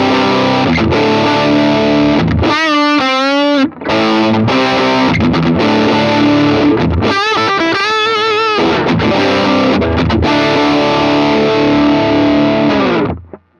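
An Epiphone Les Paul Muse electric guitar through heavy distortion plays sustained chords and bent lead notes, loud and continuous, with brief gaps between phrases.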